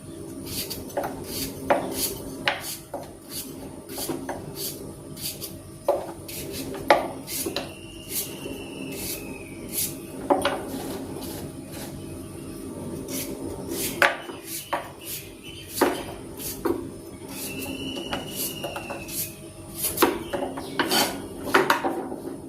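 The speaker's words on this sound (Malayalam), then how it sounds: "അപ്പോൾ അതുകൊണ്ട് ഞാൻ പടവലങ്ങ കുറച്ച് കനം കുറച്ചാണ് അരിയുന്നത്." A knife slices snake gourd into thin pieces on a cutting board, giving a steady run of crisp, close taps and cuts with small clinks of kitchen utensils between them.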